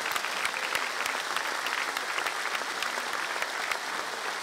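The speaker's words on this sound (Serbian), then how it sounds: "Molim još jedan aplauz za Slavišu." Steady, dense applause from a TV show audience welcoming a contestant, sustained and even throughout with no voices over it.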